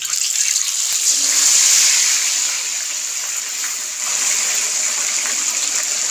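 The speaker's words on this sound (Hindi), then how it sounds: "बहुत एहतियात करनी पड़ती है जिस टाइम हम फ़िश डालते हैं।" Marinated fish for a Pakistani-style crispy fry goes into hot oil, producing a steady, loud hissing sizzle that holds throughout with slight swells, and no talking over it.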